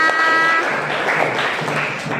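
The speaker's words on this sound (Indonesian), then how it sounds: "tepuk tangan untuk kalian semua" Students applauding in a classroom, a dense burst of clapping close by that fills the whole moment and fades slightly at the end.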